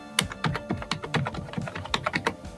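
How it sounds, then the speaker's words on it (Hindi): Rapid keystrokes on a computer keyboard as a mobile number is entered, a steady run of crisp close clicks in uneven bursts with no talking. "यहाँ पर मैंने अपना मोबाइल नंबर टाइप कर दिया"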